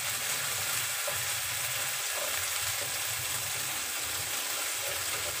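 Sambal belacan stirred in a hot wok sizzles steadily, a loud continuous frying hiss with faint scraping stirs throughout and no voices.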